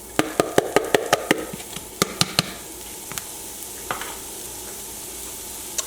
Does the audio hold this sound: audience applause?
no